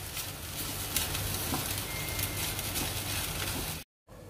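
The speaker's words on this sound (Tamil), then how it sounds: "இப்போ புளி தண்ணி நல்லா கொதிச்சிட்ருக்கு பாருங்கள்." Tamarind water for sambar boils in a pot, a close, steady bubbling hiss with faint crackles, then a brief cut to silence near the end.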